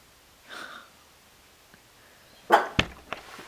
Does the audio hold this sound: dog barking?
yes